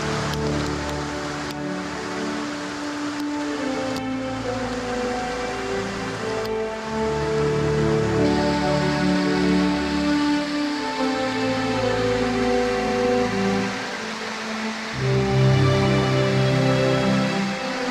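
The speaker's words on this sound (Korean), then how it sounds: "신갈나무 뿌리에서 용출된 물이 폭포가 돼 이렇게 흘러내리는 겁니다." Water from oak roots spills as a small waterfall over moss-covered rocks in a valley on Jeju, a steady close rushing splash with no voices.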